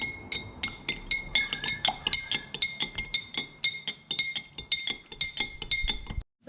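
A spoon stirs cornstarch and hot water in a glass jar, producing rapid, regular bright clinks against the glass, close and steady for several seconds.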